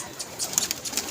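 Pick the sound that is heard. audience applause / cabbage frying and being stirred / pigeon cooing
pigeon cooing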